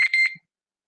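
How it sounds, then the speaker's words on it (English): A phone alarm sounds briefly at home, a couple of sharp, bright electronic beeps that cut off abruptly into silence, close and fairly loud. "That was my alarm."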